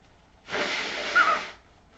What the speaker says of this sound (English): here I am blowing my nose.